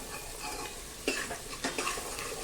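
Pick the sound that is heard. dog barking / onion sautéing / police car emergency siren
onion sautéing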